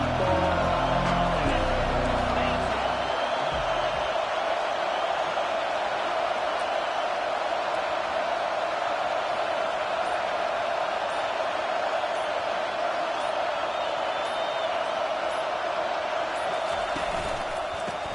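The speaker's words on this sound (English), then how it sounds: "This crowd knows when to bring it." Steady, dense roar of a stadium crowd in the College Football 25 video game, holding at a constant loud level throughout with no distinct claps or individual voices standing out.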